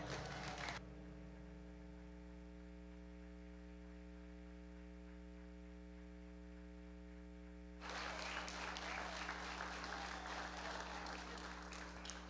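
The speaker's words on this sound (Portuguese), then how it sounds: "Você pode aplaudir ao Senhor" A wedding congregation applauds in a church, a brief burst at first, then a longer stretch after a gap, heard under a loud, constant electrical hum that runs throughout.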